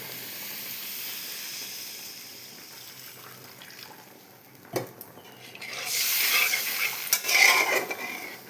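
Water poured into frying mustard masala for pabda fish curry sets off a loud burst of sizzling and hissing after a quieter stretch of soft stirring and faint frying.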